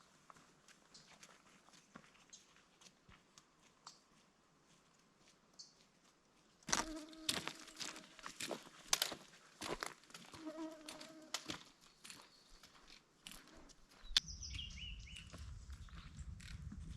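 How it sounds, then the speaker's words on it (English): A swarm of mosquitoes buzzes around a solo backpacker hiking a trail in Kings Canyon National Park. The start is quiet, then louder footsteps and gear rustle follow, and near the end there is a closer, steadier whine. "there's a massive horde of mosquitoes following me"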